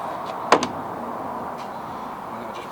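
A trailer door pulled open on a bug out trailer build, with a pair of sharp latch clunks near the start and another at the end over steady low background noise.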